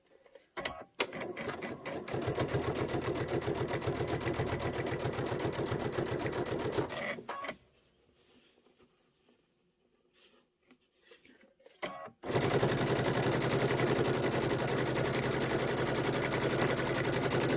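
A sewing machine stitches quilt sections in two loud, rapid runs of steady mechanical whirring, separated by a quiet pause with a few faint clicks and handling sounds.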